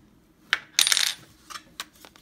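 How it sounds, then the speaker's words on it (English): A bolt being tightened into a captured nut on a Glock 17 stabilizer brace gives sharp metallic clicks and a short burst of rattling scrapes, close and crisp, with no talking. "take this nut, this bolt, tighten it into the captured nut"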